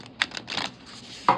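A stiff oracle card deck is shuffled by hand, giving a few brief, close, crisp riffling and tapping bursts separated by short quiet gaps.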